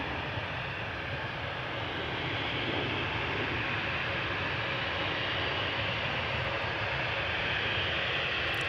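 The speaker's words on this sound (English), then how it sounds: "And another A220 from Air Baltic." An Air Baltic Airbus A220 airliner on the Polderbaan runway at Amsterdam Schiphol produces a steady, broad jet roar that swells slightly over the clip, heard from a distance with no talk.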